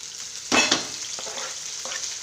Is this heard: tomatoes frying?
yes